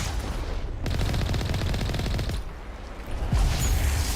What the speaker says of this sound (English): You stop shooting at me.